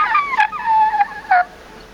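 A voice imitates a rooster crowing, giving a short, close, loud cock-a-doodle-doo with a wavering, drawn-out tone and a final rising note, heard alone.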